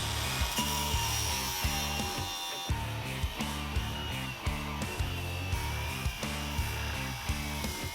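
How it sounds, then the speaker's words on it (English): A power cutting tool grinds through the welds on engine motor mounts in a vehicle rig. It makes a loud, continuous, rough metallic drone, with steady rhythmic pulses throughout and no talking. "So I'm gonna cut these welds and then get her slid."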